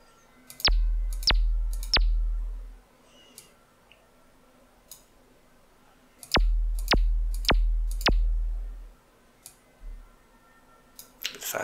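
Synthesized kick drum from a Max for Live device with a pitch envelope: two bursts of four punchy kicks, each a sharp click that drops into a deep booming decay, separated by a quiet pause and followed by faint ticks.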